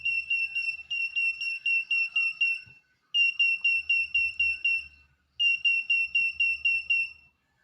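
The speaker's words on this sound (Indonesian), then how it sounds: "Nah, di sini juga ada switch emergency, di mana switch ini nantinya difungsikan sebagai alarm." Emergency alarm from a homemade IoT project, triggered by an emergency switch, in its second tone version: loud, rapid high-pitched electronic beeps in three bursts of about eight pulses each, separated by short gaps, with no talking.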